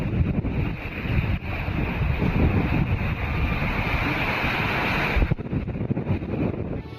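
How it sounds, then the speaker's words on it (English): Wind buffets the microphone steadily while ocean waves wash around a sailing boat at sea in heavy 20-foot swells, a continuous loud roar with a brief gust near the end. "rolling and pitching through 20-foot waves, which are almost as tall as the main mast"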